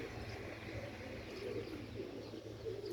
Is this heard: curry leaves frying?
no